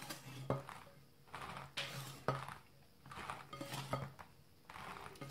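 Sifted flour being gently folded into génoise batter with a spatula or whisk in a bowl, soft rhythmic scraping and light taps against the bowl, quiet and close.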